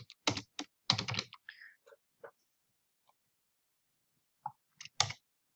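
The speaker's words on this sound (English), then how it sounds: "we're going to go ahead and start typing" Computer keyboard typing, shown while setting up an abstract art border design: bursts of quick clicking keystrokes, close and fairly quiet, with short pauses between clusters of keys and no talking.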